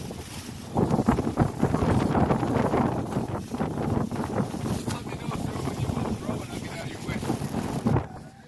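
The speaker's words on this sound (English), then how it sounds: "All the wind started blowing the stuff off the bench right here." Strong wind buffets the microphone outdoors at a seaside fishing spot, a continuous rough roar that swells and gusts throughout, up close and loud, then drops away at the very end.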